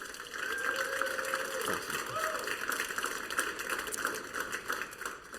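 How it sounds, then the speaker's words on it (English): A room full of people at a church team leader meeting claps steadily in a dense, continuous patter, with a few voices and whistles mixed in. "I'd love for you guys to clap for Julie to be our official kids director."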